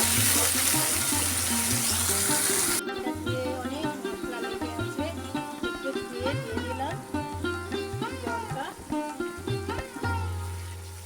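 Water poured and swirled in a pan of mutton keema while rinsing spice off a bowl: a strong gushing pour at first, then lighter sloshing and bubbling close by.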